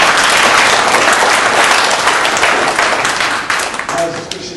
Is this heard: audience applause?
yes